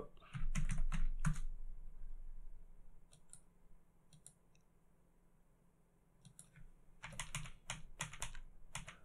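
Typing on a computer keyboard, with quick bursts of close key clicks separated by quieter pauses and no talking.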